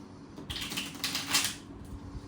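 A deck of playing cards is riffled in a few quick bursts of close, crisp fluttering clicks, each lasting a fraction of a second, with a low room hum beneath and no talking.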